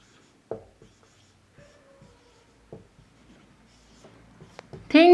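Marker writing on a board during a live English-speaking class, with short scattered squeaks and strokes, faint and intermittent, ending with a brief burst of talking.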